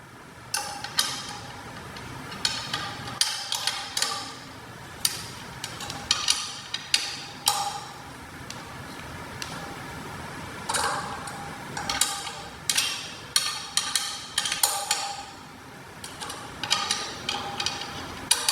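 Clamp bolts on a Prodigy scooter being tightened alternately, a series of close, crisp metallic ticks and ratcheting clicks in irregular bursts, moderately loud with quiet gaps between.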